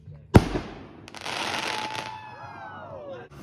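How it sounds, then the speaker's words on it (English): Fireworks set off over a lake: a sharp close bang followed by a long burst of dense crackling and fizzing that fades out, with voices faintly present. "setting off fireworks over a lake"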